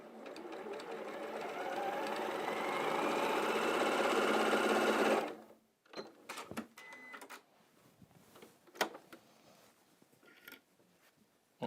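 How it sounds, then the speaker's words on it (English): A sewing machine stitches quilt block fabric pieces together in a steady, continuous whir for about five seconds, then stops, followed by quieter handling and rustling of the fabric. "So you can see I've now sewn those two together."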